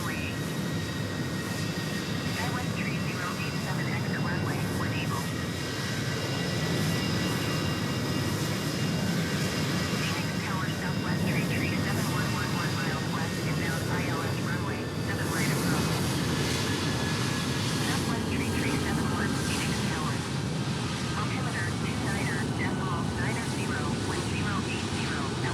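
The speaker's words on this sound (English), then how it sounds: "Southwest 737-800 taking off runway 7 left." Southwest 737-800 taking off from runway 7 left at Phoenix Sky Harbor in Microsoft Flight Simulator 2020, a steady broad jet engine roar that swells and holds throughout, moderately distant.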